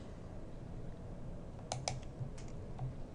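A few soft computer mouse clicks in a software toolbar, faint and close over a steady low background hum, two quick clicks followed by a couple of scattered lighter ones.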